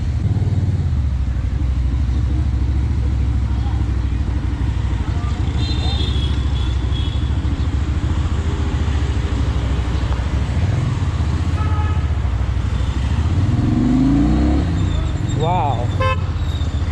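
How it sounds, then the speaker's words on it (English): A Keeway K Lite 250 motorcycle engine running after ignition, a steady close rumble through a long ride amid road traffic, with a car horn tooting and brief louder engine swells near the end. "So turn on the ignition, and wow, this has got the sound. I mean, very nice sounding motorcycle."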